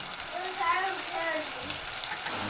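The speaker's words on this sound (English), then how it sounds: "And I'm going to place them in my oil. And we're going to fry them until they're crispy." Flour-and-herb breaded onions fry in hot oil with a steady bubbling hiss and crackle, close and fairly loud, running alone for a couple of seconds.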